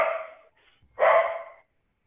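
A dog barks twice over a webcast meeting, a short burst and then a louder bark a moment later, fairly close by.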